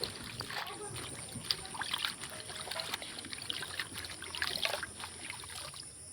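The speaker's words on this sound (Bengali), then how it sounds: "আর আমি এখন নিয়ে যাচ্ছি কলে পাতাগুলোকে ধোয়ার জন্য" Taro leaves washed under a running water tap: soft trickling and splashing water with irregular bursts of dribbling, fairly faint and close, over a steady background hiss.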